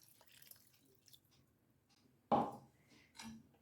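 Rinse water from a freshly washed mixer jar splashes into a pan of sweet pea and potato gravy, a single short splash followed by a faint trickle, quiet and close with nothing else around it.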